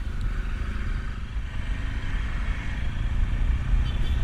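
An off-road motorcycle engine chugs and rumbles steadily at low revs, with a coarse, gritty texture as it rides through sand, close and continuous.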